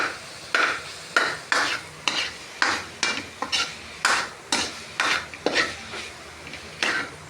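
A spoon scrapes and stirs ground pork giniling frying in a pan for caldereta spaghetti, in a steady rhythm of about a dozen scraping strokes over a soft background sizzle.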